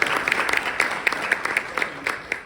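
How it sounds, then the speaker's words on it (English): Audience at a Richmond County community presentation claps for the presenters, a steady patter of many hands at moderate level, close and continuous through the moment. "Please help me give them a round of applause."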